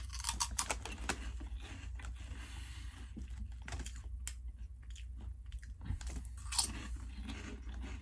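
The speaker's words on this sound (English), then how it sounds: "And they're super crunchy, as you can hear." Close, crisp crunching of someone chewing crunchy cauliflower stalk snacks, irregular bites and munches repeating over several seconds with no talking.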